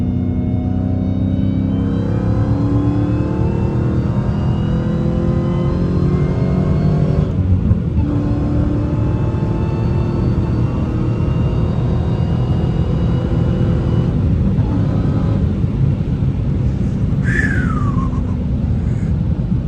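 A manual Dodge Hellcat accelerates hard from inside the cabin, its engine roaring loud and steady with rising pitch through successive gear changes and brief dips between shifts, no talk.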